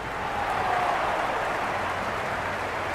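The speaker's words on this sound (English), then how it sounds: "the crowd have joined the party. It's pretty noisy at the ground." In the video game Cricket 26, a crowd at a cricket ground makes a broad, steady roar of massed voices, swelling slightly early on and then holding level, with no commentary over it.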